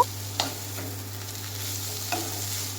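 Fenugreek greens are stirred with fried eggplant in a pan, a spoon scraping a few times over a low, steady sizzle of frying, close and fairly quiet, with no voices.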